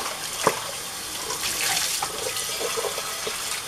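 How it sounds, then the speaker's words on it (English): Tap water runs steadily over a porcelain dish being rinsed in a sink, with a few clinks and splashes near the start and end, close and alone. "Okay, let me rinse this out."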